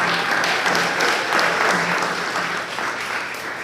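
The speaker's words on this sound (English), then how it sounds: "Can you give her a nice round of applause?" An audience at a school board of education meeting gives a teacher a round of applause, close, loud, dense clapping that stays steady and then eases slightly toward the end.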